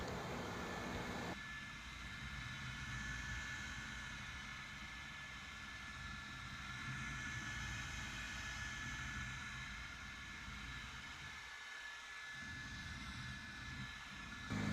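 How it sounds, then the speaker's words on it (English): A small electric leaf blower aimed at the grille of a Hyundai Genesis Coupe gives a steady, rushing whoosh of air close by. It starts abruptly, then holds with slight swells and a brief dip near the end. "I just got a little electric leaf blower. I'm just kind of gonna aim it just, you know, right at the grill."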